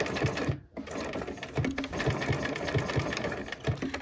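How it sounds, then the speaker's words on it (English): A sewing machine stitches a decorative buttonhole stitch around a fabric flower-basket project, its needle running in a steady, quick rhythmic chatter close up with brief pauses, no talking. "I'm going to stitch around with my buttonhole stitch"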